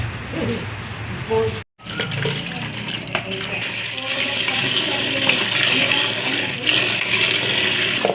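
Running water pours steadily over banana flower pieces being rinsed clean after soaking overnight in turmeric water, a continuous splashing flow under brief talk.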